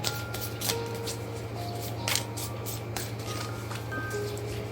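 Tarot cards shuffle in a quick riffling run of soft, papery flicks and taps, close by over a low steady hum, carrying on throughout.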